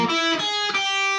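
Distorted electric guitar plays a variation on a song's solo, with a few sustained, ringing notes heard alone and up close.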